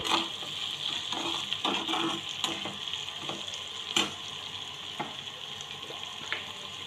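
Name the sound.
stir-frying vegetables in a pan over full flame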